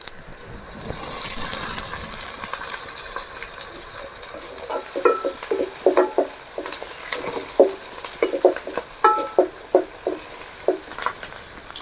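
Curry leaves and onions frying in hot oil, a steady close sizzle with repeated scraping and clattering stirring strokes that grow into a regular rhythm.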